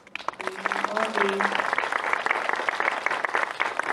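An audience at a film screening Q&A breaks into sustained, dense applause, and a speaking voice is briefly heard early on over the clapping.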